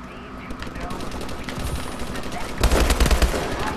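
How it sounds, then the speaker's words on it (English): XMG guns fire in Call of Duty Advanced Warfare multiplayer, a rapid burst of automatic gunfire that grows louder near the end, heard among busy game sounds with some talk. "this guy pre-aiming is pre-shooting his stupid XMGs"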